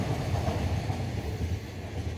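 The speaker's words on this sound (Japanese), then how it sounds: "軽やかなジョイント音を奏でながら通過していきました。" EF210 electric locomotive hauling a freight train near Soga Station, close and loud, with a steady rolling roar and rhythmic clicks of wheels over rail joints throughout, cutting off abruptly at the end.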